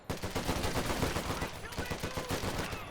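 Rapid, dense gunfire between cavalry riflemen and pioneers in a strategy video game, a continuous crackle of rifle and machine-gun shots at close range lasting the whole stretch at moderate loudness.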